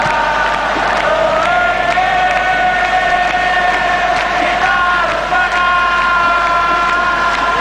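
A football stadium crowd at an Arsenal match applauds, a steady roar of clapping and cheering swelling around the ground with no pause.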